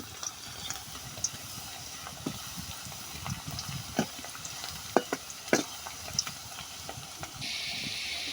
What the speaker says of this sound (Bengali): এখন নাড়াচাড়া করে উল্টিয়ে পাল্টিয়ে ভেজে নিব লো আঁচে।